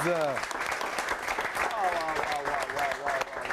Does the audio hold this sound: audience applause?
yes